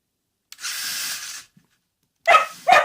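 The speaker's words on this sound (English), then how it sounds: "I apologize for my dog. She doesn't like the noise." A dog barks nearby: a breathy, drawn-out sound first, then two sharp, loud barks in quick succession against otherwise quiet surroundings.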